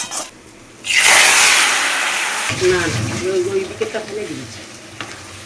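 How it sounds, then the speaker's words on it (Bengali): Lote fish frying in oil: a sudden loud sizzle erupts as the fish hits the pan, then settles into a steady crackling fry, with a voice talking over it in the second half. "প্রথমে আমি লোটে মাছগুলো না এখানে তেলে ভেজে কাঁটাগুলো ছাড়িয়ে নেব"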